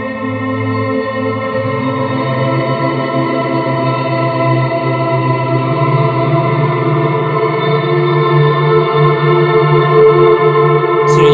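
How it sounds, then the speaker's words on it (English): A guitar chord rings out as a long ambient drone through a delay pedal, its sustained tone wavering and shimmering with a warbly, chorus-like repeating echo. "Kind of shape the sound however you want with your delay pedal"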